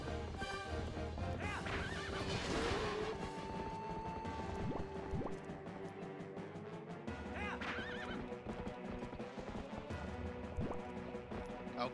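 In The Legend of Zelda: Twilight Princess, a horse whinnies loudly and hooves clip-clop at a gallop, heard over the game's music and effects.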